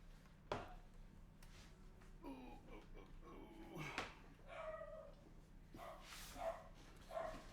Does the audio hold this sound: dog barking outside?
yes